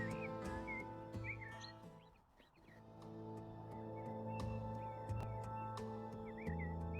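Birds chirping and tweeting in a peaceful garden scene of the House Flipper video game, scattered short calls over a steady low ambient hum, moderately faint.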